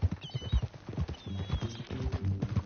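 Horse hooves clip-clopping on the ground, a rhythmic series of close, hollow thuds that continues across nearly three seconds at moderate volume.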